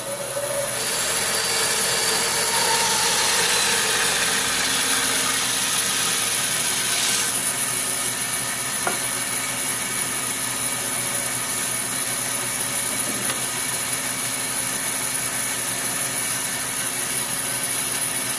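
A power saw guided by a miter gauge makes a rough trim cut on a flame maple guitar neck, giving a steady, loud, continuous rasping whine that lasts throughout with no voices.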